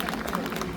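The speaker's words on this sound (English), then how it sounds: "Let's give them a big round of applause once again." Applause from the audience at a children's art painting competition, a steady dense wash of clapping and crowd noise filling the short moment without pause.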